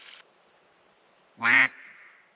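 A bufflehead duck gives a single short, loud quack-like call, briefly nasal and buzzy, with a faint call before it and quiet background around it.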